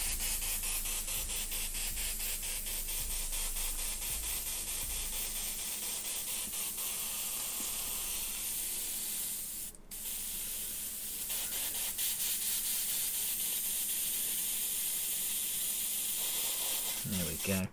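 A clogged airbrush sprays paint with a continuous thin hiss, broken by a brief sputtering dip partway through before the steady spray returns.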